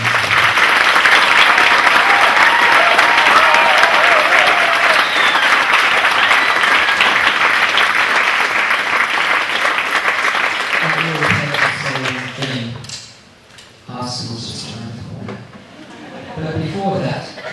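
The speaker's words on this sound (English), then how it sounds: "we can just give them a massive round of applause" Loud, dense audience applause at a school Year 7 speech night fills the first eleven seconds, then fades out and gives way to scattered voices talking.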